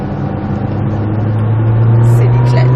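A Nissan GTR engine under full throttle on a circuit, a loud rising drone climbing in pitch as it builds, heard from the cabin with a voice speaking over it.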